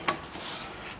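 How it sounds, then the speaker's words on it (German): Small washers are cut out by hand with a blade for a fix to rattling Tesla shock absorbers, giving a short sharp snip followed by a steady rasping, scraping cut close by, with no talking. "Jetzt brauche ich noch 2 kleine Unterlegscheiben. Die schneide ich mir hier nochmal raus."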